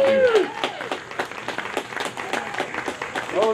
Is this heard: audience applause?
yes